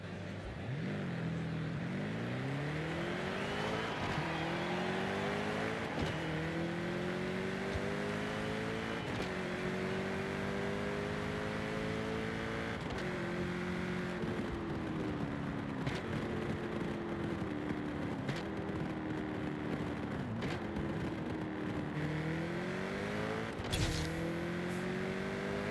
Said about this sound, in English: listen to the absolute heavenly engine and shifting sounds